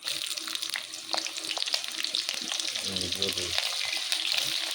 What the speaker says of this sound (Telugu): బోటి ఫ్రై చేస్తున్నా